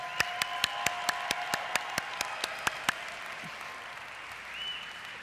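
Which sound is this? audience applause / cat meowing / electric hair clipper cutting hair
audience applause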